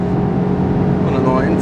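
A Seat Leon Cupra R ST with a 300 hp Golf R engine accelerating hard, a loud, steady engine roar heard from inside the car with a rising pitch toward the end.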